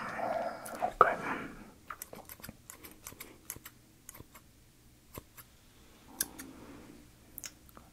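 Barber's scissors trimming a man's sideburns in a barbershop: a string of crisp, close, quiet snips spaced irregularly, with a soft murmured voice near the start.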